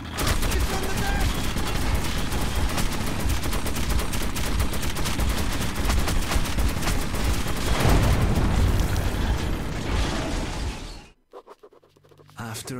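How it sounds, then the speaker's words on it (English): A turret machine gun in Metro 2033 Redux fires in one dense, continuous loud burst for about eleven seconds, then cuts off abruptly to near silence. "I hope you know how to operate the machine gun, kid"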